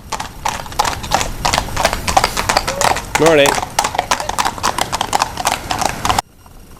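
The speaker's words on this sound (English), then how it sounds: "As you see, here are some horses." Horses walk past with a steady, close clip-clop of hooves, one giving a brief whinny midway, while a person speaks a short greeting over the hoofbeats and faint outdoor ambience.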